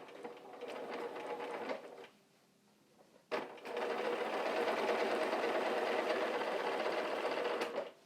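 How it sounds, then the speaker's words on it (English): A sewing machine stitches quilt binding strips corner to corner in a steady, close whir, pausing briefly in the middle with a sharp click before running continuously again. "lay it on top like this, and sew from corner to corner"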